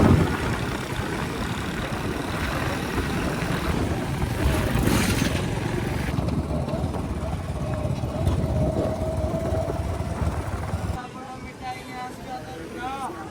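Motorbike engine running steadily while riding on a hot day, a continuous broadband roar that holds for most of the stretch before dropping off sharply near the end, with a faint voice underneath.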